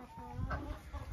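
Chickens in a farm coop, a brief low clucking murmur over steady background hiss, moderately close.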